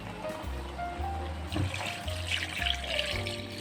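Water is poured into a pot of keema masala, a soft splashing and gurgling pour that begins midway and keeps flowing over quiet background music.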